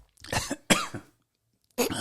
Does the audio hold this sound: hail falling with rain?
no